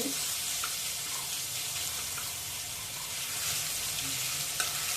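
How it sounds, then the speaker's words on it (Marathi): Cumin seeds and garlic paste frying in oil over low heat for a radish-leaf vegetable dish, giving a steady, close, soft sizzle with a few light stirring clinks and no talking. "आता टाकतोय जिरं आता टाकायची लसूण पेस्ट मंद आचेवर तळायची"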